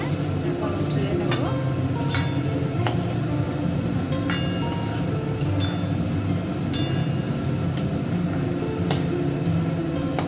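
Fish frying in hot oil, a steady close sizzle that runs continuously under occasional clinks and scrapes of a utensil, with voices talking over it.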